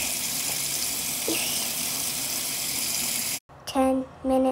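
Water runs steadily from a tap, a loud constant hiss for several seconds that cuts off abruptly, followed by a voice speaking.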